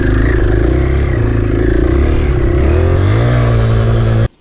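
A KTM 500 enduro motorcycle engine roars loud and close, its revs climbing and shifting pitch under the throttle before cutting off abruptly.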